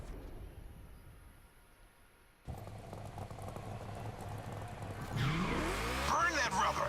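Car tires squeal in a burnout in the racing game The Crew Motorfest, starting quiet then rising to a loud sustained screech with engine revving over the last couple of seconds.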